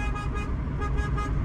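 A Volkswagen Gol car horn toots in quick, repeated pulses in a video game, over a low, steady engine rumble.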